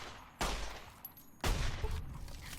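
Blind-fired gunfire in Fallout: New Vegas, two sharp bursts of shots about a second apart, each trailing into a rumbling tail over steady game ambience.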